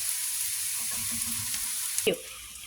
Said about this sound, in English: so now we got the garlic cooking in there with the onions